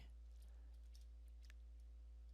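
Light keystrokes on a Lenovo Yoga Pro 9i laptop keyboard, a sparse run of soft clicks over a steady low electrical hum, faint and close.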